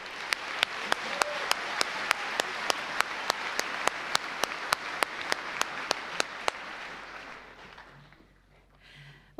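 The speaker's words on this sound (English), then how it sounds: "Please give them a round of applause." A school band concert audience applauds the student performers, dense clapping punctuated by sharp individual claps, steady for about six seconds before tapering off into quiet.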